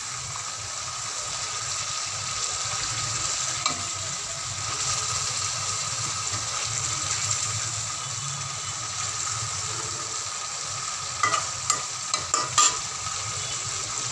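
A fish head fries in spices in a pan before any water is added, giving a steady, close sizzling hiss with the spatula scraping and knocking the pan in a short burst near the end.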